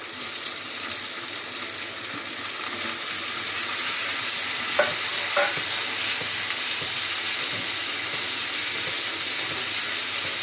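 Finely chopped onions for a potato curry sautéing in a pan with salt, an even, steady sizzle throughout with a couple of faint utensil taps midway.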